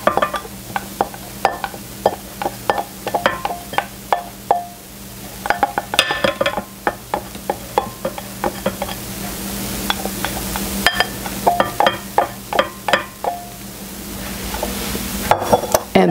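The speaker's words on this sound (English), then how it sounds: "Now I will put in the rest of my flour." Batter for a ten-layer chocolate cake being stirred as the remaining flour is worked in, with repeated scraping and knocking of a utensil against the bowl in an uneven rhythm, close and fairly loud, no talking.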